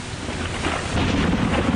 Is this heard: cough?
no